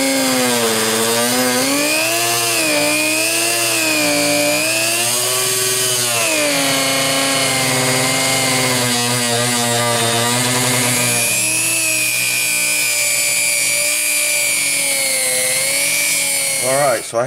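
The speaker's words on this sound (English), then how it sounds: "I'm going to slice it down the middle and take enough off so that this blade will fit down there nicely and securely" A power saw buzzes loudly and continuously as it cuts down the middle of a stone knife handle, its pitch rising and falling with the load over about seventeen seconds.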